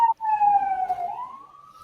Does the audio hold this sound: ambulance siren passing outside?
yes